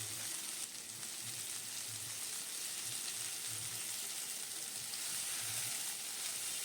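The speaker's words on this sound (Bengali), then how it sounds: "আলুটা কিছুটা ভাজা হয়ে গেলে মিনিট চারেক ভাজা হয়ে গেলে এবার আমি ইয়ে দিয়ে সজনের ডাটাগুলো দিয়ে দিলাম" Potato pieces and drumstick (moringa) stalks fry gently in a pan, a soft steady sizzle with faint crackle heard alone at low volume.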